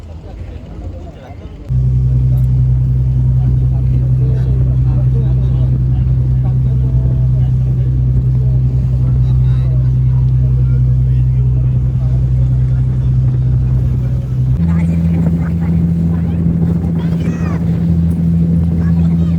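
A motorboat engine drones steadily while riding aboard near Karanja jetty, loud and close, with a brief quieter start and a slight pitch shift near the end; wind and water wash blend into the hum.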